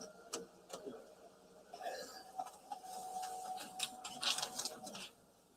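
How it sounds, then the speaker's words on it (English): Printer printing in a courtroom during a trial, faint mechanical whirring and clicking passes under soft voices and room murmur. "As soon as you hear the printer."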